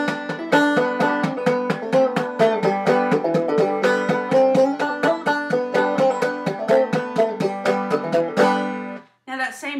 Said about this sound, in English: When I get to playing fast, I love to thumb whack and really exaggerate it to make it sound loud.